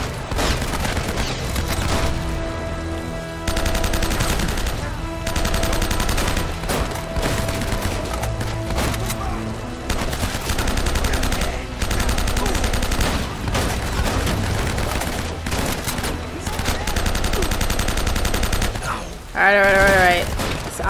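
Enemy gunfire in Uncharted: Drake's Fortune, dense bursts of rapid shots and fusillades crackling in repeated volleys, loud and close, with a player's voice talking intermittently over the shooting.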